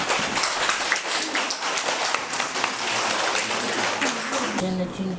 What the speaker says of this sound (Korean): 감격스러운 마음에 자축의 박수를 쳐봅니다